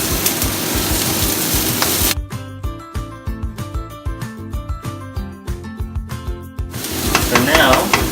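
Ginger, garlic and snow peas stir-frying in a hot pan, a steady loud sizzle at the start and again at the end, with music playing through the middle stretch.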